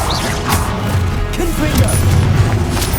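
Incendio fire spell cast in the Hogwarts Legacy video game, a dense roaring whoosh with booming low rumble and scattered crackling impacts, loud and continuous over the whole stretch with a swell near the end.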